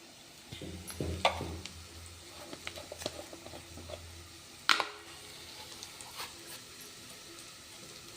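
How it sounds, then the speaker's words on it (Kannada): Cumin seeds fry in a pan with a soft, uneven sizzle and patter, punctuated by scraping stirs and a sharp clatter, close and fairly quiet with no speech. "ಫ್ರೈ ಮಾಡೋಣ. ಸ್ವಲ್ಪ ಜೀರಿಗೆ ಹಾಕೋಣ."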